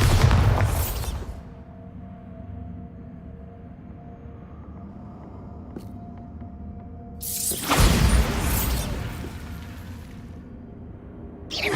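A Bombarda blasting spell in Hogwarts Legacy goes off with a loud booming explosion and crackling debris, followed by a low rumbling lull and then a second heavy blast.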